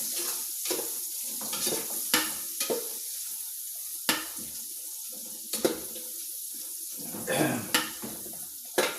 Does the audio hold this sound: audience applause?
no